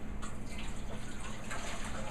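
Dissolved yeast mixture poured into a bowl for bread dough, a steady close liquid splash and trickle lasting a couple of seconds with no talk.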